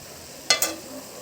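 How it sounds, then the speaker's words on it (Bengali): Leafy greens stirred in a frying pan, two quick scraping clicks of a spatula over a soft, steady sizzle, fairly faint and close. "ঢাকাটা খুলে আর একবার নাড়াচাড়া করে দেবো।"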